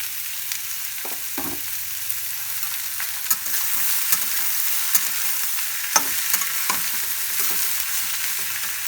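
Chopped sajmain squash sizzles steadily in hot oil, a dense close frying hiss broken by scraping stirs and a few sharp utensil taps, with no talking.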